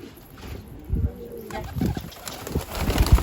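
Bango pigeons coo on a Turkish rooftop in soft, low, intermittent calls with a few brief wing flaps, fairly close, over quiet outdoor background and faint voices.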